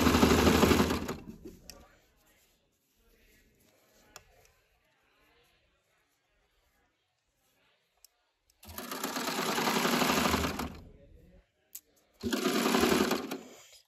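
A sewing machine stitching a ribbed neckband onto a neckline, close and loud in three bursts of rapid even needle chatter with quiet gaps and small clicks between runs.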